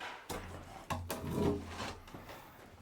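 An old wooden door in a house in Molise, Italy, being moved, giving a few close creaking, rubbing and knocking sounds over about three seconds in a quiet room.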